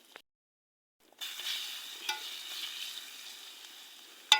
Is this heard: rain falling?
no